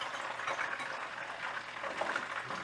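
Unbreaded chicken fries in lard, a steady close sizzle with soft bubbling crackles and no talk.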